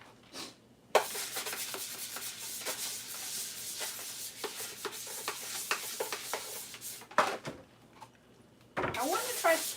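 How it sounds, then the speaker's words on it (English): Bleached dishes are scrubbed by hand, a close series of rough, rhythmic rubbing strokes with short pauses. Small clinks and water sounds come through between bursts of scrubbing. "Scrub these a little bit more after I put the bleach on them."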